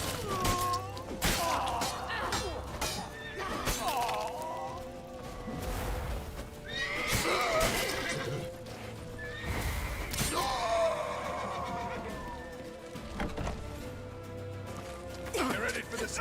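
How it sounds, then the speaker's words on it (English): Horses neigh and whinny loudly several times in a medieval city chase in The Witcher 3, with hooves clattering and shouted voices mixed into a busy game soundtrack. "Leave your horse!"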